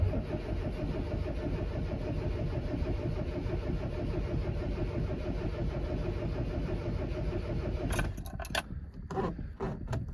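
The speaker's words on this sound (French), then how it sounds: "Est-ce qu'elle va démarrer, ma fidèle Mini?" An Austin Mini engine, choke pulled after standing unused for a while, cranks and runs in a steady low rumble, then cuts out abruptly near the end, followed by a few clicks and mechanical knocks.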